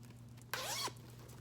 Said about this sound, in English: Zipper pull.